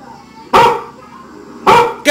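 A dog barks loudly and close, with two sharp single barks about a second apart and the start of a third, heard over a telephone line.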